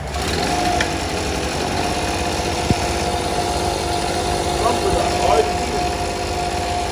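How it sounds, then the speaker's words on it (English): A small generator, freshly fitted with a new crankcase, runs close by with a steady buzzing whine and a dense, even engine drone from start to end, with one brief sharp knock partway through. "So let's start this generator now."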